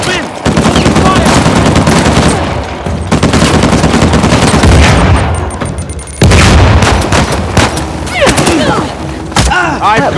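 Heavy automatic gunfire and booming blasts from a firefight in the PS5 action game Uncharted: The Lost Legacy, loud and nearly continuous, with sustained bursts, brief lulls, and shouted voices mixed in.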